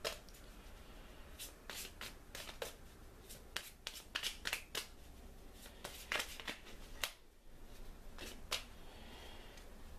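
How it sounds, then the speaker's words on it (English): Tiles from the board game Betrayal at House on the Hill being shuffled, a close, quiet series of sharp clicks and clacks of tiles knocking together, irregular and steady over about ten seconds. "So I'm just going to shuffle these tiles up."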